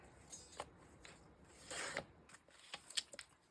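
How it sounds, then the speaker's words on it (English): Scissors snipping through a glossy garden magazine page up close, a few quick crisp cuts followed by a longer sliding slice and then a rapid run of small snips, quiet with no voices. "I'm going to cut that down."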